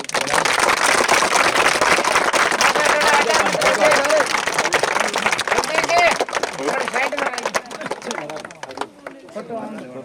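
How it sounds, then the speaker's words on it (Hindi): Enthusiastic clapping from a gathered crowd at an Ambedkar Jayanti eve program in Kataariyon ki Dhani, dense and sustained for several seconds before thinning out, with voices talking over it. "जोरदार तालियां बजाओ"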